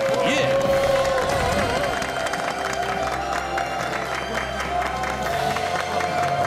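A television studio audience breaks into sustained clapping and cheering to welcome two guests onto a health talk show, with a host's voice over the applause.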